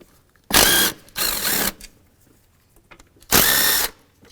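Power tool spinning out 10 mm bolts from the intake manifold of a Hyundai Sonata, three short loud whirring bursts separated by brief pauses, close up with no talk.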